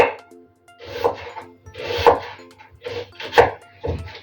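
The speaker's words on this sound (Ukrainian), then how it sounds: "І нарізаю всю цибульку" A knife chops through a large onion on a board in short bursts of crisp cuts, separated by brief pauses, close and clear.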